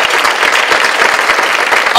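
A dense burst of crowd applause fills a charity luncheon hall for the Go Red for Women executive committee, loud and continuous throughout.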